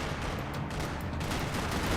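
Dense gunfire echoes through a parking lot in Max Payne 3, a steady wash of overlapping shots with no clear gaps, loud and close, running continuously for two seconds.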